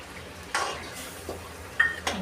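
Paneer pieces are stirred into cooked spinach in a pan for palak paneer, with a few sporadic spoon scrapes and light clinks against the pan over a quiet background.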